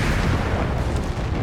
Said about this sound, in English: Another building collapses due to another direct artillery strike